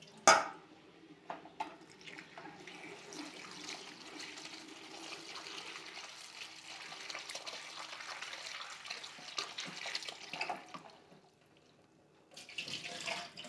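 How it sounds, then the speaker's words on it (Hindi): Strawberries being washed in a bowl of water and drained at a sink, with steady running and splashing water close by for most of the time, easing off briefly before the flow resumes. "फिर पानी ड्रेन करेंगे तीसरी मरतबा वाश करेंगे"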